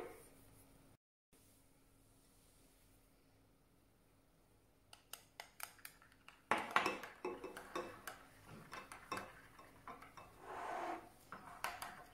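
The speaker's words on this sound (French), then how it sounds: "Voilà, je mélange le tout." A yogurt-based kebab marinade with Espelette pepper is mixed in a bowl, starting quiet and then turning into repeated close clinks and scrapes of a utensil against the bowl, no talk.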